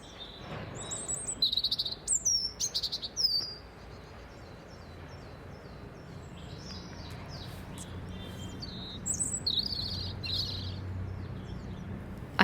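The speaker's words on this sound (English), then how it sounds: "you can also hear birdsong, like this robin." A robin sings bright, warbling phrases in short bursts over a steady urban hum in King's Cross, London, with calls returning later, moderately close.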